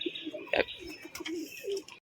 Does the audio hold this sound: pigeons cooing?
yes